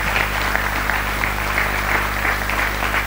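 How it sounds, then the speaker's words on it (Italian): Audience applauding as a deputy vice president of the Italian Chamber of Deputies takes the stage at a 1991 event in Molise; steady, dense clapping fills the whole stretch with no voices over it. "onorevole Aldo Aniasi, che ora sale sul palco con il nostro applauso"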